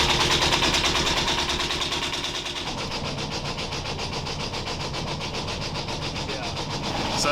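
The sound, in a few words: sailboat engine running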